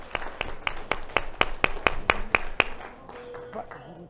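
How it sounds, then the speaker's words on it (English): Hands clap in a brisk, steady rhythm at a business seminar, about a dozen sharp, evenly spaced claps, moderately loud and close, ending in a brief murmur of room noise. "Let's give yourselves a round of applause"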